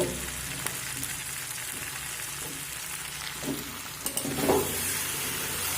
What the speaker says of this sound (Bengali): দেখুন আলু তো কষানো হচ্ছে